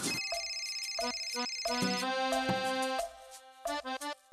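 A melodic electronic phone ringtone plays a repeating pattern of bright tones, loud and close, stopping into short bursts near the end.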